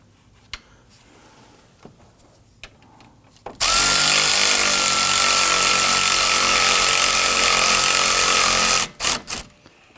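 A power driver runs steadily into self-tapping screws on a Nissan Murano AC condenser, a loud, continuous whir lasting several seconds before cutting off, with a couple of short bursts at the end.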